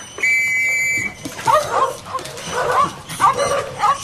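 A high whistle sounds first, then a pack of terriers breaks into excited barking and yipping inside an old chapel overrun with rats. The bursts are close and loud and come in uneven clusters.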